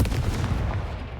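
A Confringo blasting curse cast in a Harry Potter video game, heard as a dense, steady rumble of blast noise that holds for the whole short moment without any talk.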